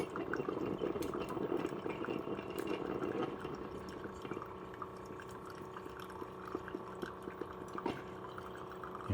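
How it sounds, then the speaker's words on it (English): A Hamilton Beach single-serve coffee maker brewing through a K-cup: a steady, faint trickle and drip of hot coffee over a low continuous hum, with scattered small splashes and no talking. "now our coffee's coming through the K-cup"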